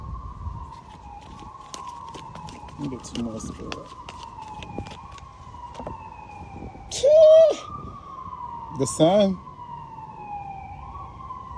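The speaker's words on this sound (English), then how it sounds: "Sorry about the background noise and the sirens." Emergency sirens wail in a city, steady and rising and falling in the background, while someone talks over them and two sharp horn blasts cut in partway through.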